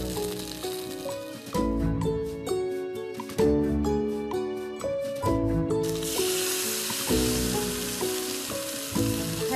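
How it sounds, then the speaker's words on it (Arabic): Hot chicken broth poured into a pan for Lebanese moghrabieh, a loud sizzling hiss swelling up partway through and continuing over tonal background music. "هلا عم بلش نحط المرقة"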